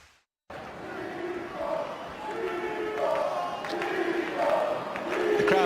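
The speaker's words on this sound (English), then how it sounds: "The crowd chanting for Nicolas Almagro as he puts himself in this fine position" A tennis crowd at the Madrid Open chants for Nicolas Almagro, a rhythmic, repeated chorus of many voices that swells and grows louder after a brief silence at the start.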